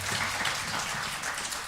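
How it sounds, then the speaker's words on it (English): Audience applause at a live church panel event, a dense, moderate burst of clapping that holds steady through the whole moment without talk. "Can we give them a round of applause?"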